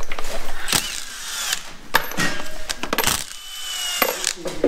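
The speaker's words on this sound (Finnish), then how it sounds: "Pitää tässä hetken aikaa napsutella momenttiin" Sharp metallic clicks of a torque wrench tightening valve cover bolts in a motorsport workshop, several loud clicks at irregular intervals among clanks and shuffling tool noise, close by.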